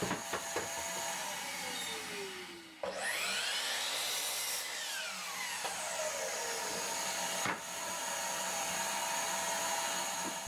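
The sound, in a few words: sawing 2x4 lumber into bench pieces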